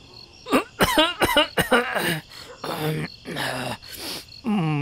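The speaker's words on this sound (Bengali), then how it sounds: "বৃদ্ধ লোকটি একটু কেশে নিয়ে তারপর রতনের উদ্দেশ্যে বললেন" An elderly man in a Bengali suspense audio drama gives a couple of sharp coughs and throat-clearing sounds, followed by voiced, breathy vocal sounds close to the microphone.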